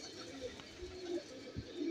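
Iranian highflyer pigeons coo softly in a loft, a few low, brief burbling calls that are faint and close.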